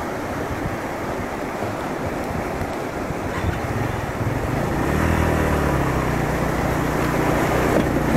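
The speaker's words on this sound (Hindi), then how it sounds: "बड़ी स्पीड में आ रहा है पानी" Fast, forceful water rushing at Sheosar Lake in Deosai, a steady broadband roar close by with wind buffeting the microphone, growing somewhat louder partway through.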